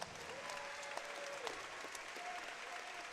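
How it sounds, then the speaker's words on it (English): A crowd claps steadily for a few seconds at a fight event, moderately distant, with scattered whistles and faint voices mixed in. "Let's give them a big round of applause"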